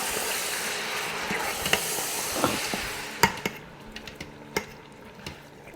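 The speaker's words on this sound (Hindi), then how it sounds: "ये थोड़ा अदरक लहसुन में फ्राई होता है" Ginger and garlic paste frying in an Instant Pot while making mutton korma: a steady oily sizzle and hiss that fades toward the end, punctuated by a few sharp clinks of a spoon against the metal pot.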